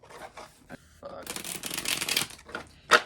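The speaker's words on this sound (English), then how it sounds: "now that I feel like they're shuffled all good enough" Tarot cards being shuffled by hand, a run of crisp riffling and flapping bursts that swells in the middle and ends in a sharp snap, with brief talk before it.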